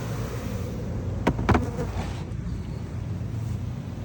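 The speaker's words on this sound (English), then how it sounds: "we've got a few bees in there." Steady honeybee buzzing close by, a continuous drone with a couple of brief louder bursts, no voices, during a honeybee removal from a house in Manassas, Virginia.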